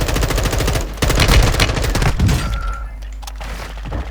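Rapid automatic gunfire in Call of Duty: Warzone 2.0, loud close bursts from an M4 rifle that break off into scattered single shots.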